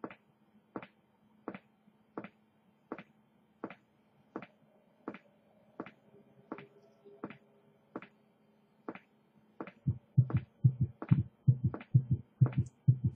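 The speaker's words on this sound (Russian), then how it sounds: "Сердце стучит." A steady, regular heartbeat from the SCP-087-B mod horror game, evenly spaced thuds that grow louder, deeper and faster near the end, with no talk over it.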